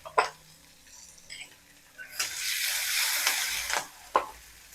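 Curry leaves and green chillies drop into hot oil with a few sharp pops, then a loud burst of sizzling and crackling that fades, followed by a final spatter, with no talk.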